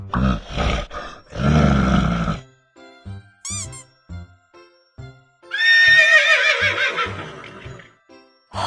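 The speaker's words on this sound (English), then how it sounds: "H-O-R-S-E. Horse." A loud, drawn-out horse whinny that rises and shakes before fading, heard midway between punchy musical hits and a brief bright chime.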